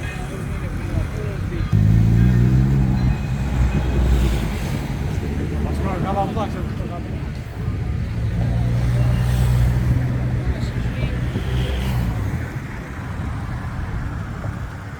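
Cars crossing a pedestrian bridge in the seaside town of Omiš, Croatia: two spells of close engine rumble swell and fade while people talk nearby over outdoor background noise.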